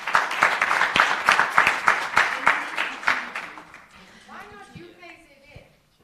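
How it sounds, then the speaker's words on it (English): A round of applause from an audience at a university innovation event, dense, steady clapping for about three seconds that fades out, with a voice speaking as it dies away. "Please give them a wonderful round of applause."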